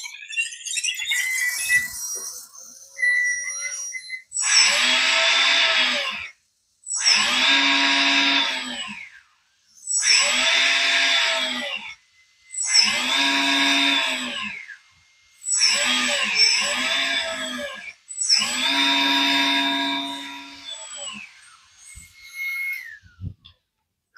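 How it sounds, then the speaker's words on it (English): A small electric motor drives the gear assembly of a Lesu SK500LC hydraulic RC excavator, whirring in six short bursts of about two seconds each with brief pauses between, loud and close, with no talking. "I have enough of the gear assembly together in order to try the motor"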